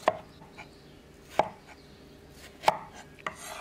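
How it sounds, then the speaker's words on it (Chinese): A knife chops a peeled tomato into large chunks on a cutting board, giving three sharp, evenly spaced cuts and a fainter fourth, close and clear with no talking. "旋转着把它切成大一点的块儿"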